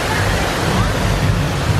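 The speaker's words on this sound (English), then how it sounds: "Amazing waterfall." A waterfall at Walt Disney World roars in a steady, broad rush of falling water, loud and continuous with no clear voices.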